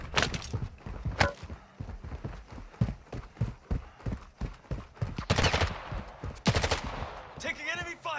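Enemy gunfire in Call of Duty Modern Warfare 2 DMZ at Al Mazrah, a string of sharp shots and short bursts at irregular spacing, some close and loud, some farther off, with brief game radio voices.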